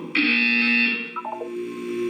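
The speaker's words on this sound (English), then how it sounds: "You will hear a buzzer." A loud electronic buzzer in the video game Portal 2 blares for about a second, then a quick descending run of game-like blips follows.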